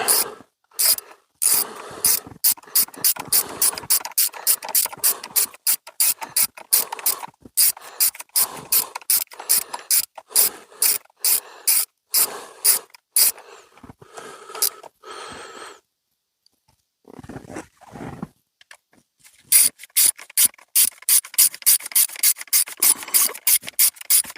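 Ratchet wrench tightening bolts during a car oil change, a rapid run of sharp clicking bursts with brief pauses, close and loud, with no talking.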